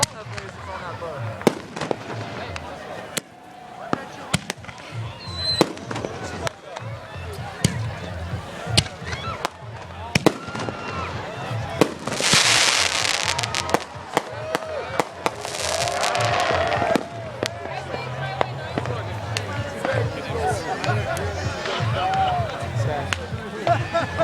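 Public fireworks show over water with a laser-lit boat: sharp repeated bangs and crackling bursts, some near and loud, others distant, with crowd chatter and people talking throughout.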